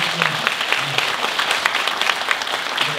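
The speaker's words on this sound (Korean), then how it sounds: "큰 박수 부탁드리겠습니다" A big round of applause fills a community meeting hall on Yeongjong, dense steady clapping from a large crowd for a guest who rushed over from the National Assembly, sustained and even throughout.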